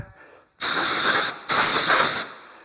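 Two sharp bursts of compressed air hiss loudly in quick succession, each lasting under a second, with near silence before them, blowing debris off a Polaris Ranger XP 800 half shaft.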